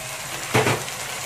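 Fish sauce splashing into a hot pan of frying fish for Thai-style spicy fried fish, a short close hiss and sizzle burst against a steady low kitchen background.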